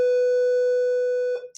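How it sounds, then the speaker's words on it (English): An electronic school bell rings during a sixth-grade classroom math test review: one loud, sustained buzzing tone that holds steady, then cuts off abruptly near the end. "bell ringing"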